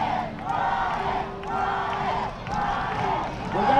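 A demolition derby crowd at the Antelope Valley Fair cheers and shouts in repeated swelling bursts, loud and distant-sounding, with some voices mixed in.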